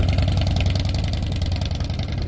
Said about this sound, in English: There he goes with these new exhausts. Vance and Hines short shots.